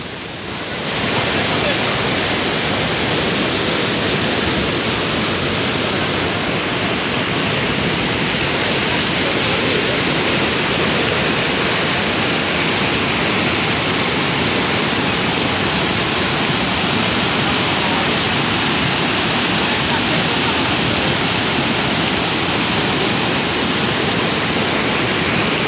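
Floodwater roars in a constant, loud, unbroken rush from a burst dam (açude) in Crato, a dense wall of churning water that never lets up.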